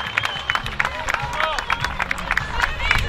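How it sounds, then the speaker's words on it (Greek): A crowd gives steady clapping for a runner crossing the finish line of a 27-kilometre race, with brisk claps over a low murmur of voices in the background. "Μπράβο Δημήτρη, ένα θερμό χειροκρότημα"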